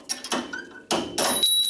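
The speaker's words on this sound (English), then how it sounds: "so I'm going to take a longer punch," Metal punch struck with a hammer to drive out a rusted front strut bolt on a 2000 Honda Civic, giving two bursts of sharp metallic clanks close by, with a faint ringing tone between them.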